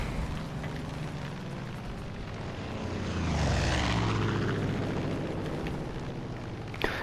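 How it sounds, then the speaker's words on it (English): Seaplane in Far Cry 5 flying and coming in to land: a propeller engine drone swells as the aircraft passes close overhead around the middle, then fades back to a steady hum, with a brief click at the end. "Is this a seaplane? I'm not gonna risk it, so I am gonna land it."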